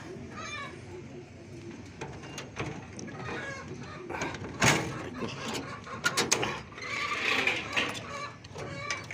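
A rooster paired with a hen named Batman clucks near the coop, giving short clucks and calls between bursts of people talking, with a louder squawk midway and scattered bird sounds around.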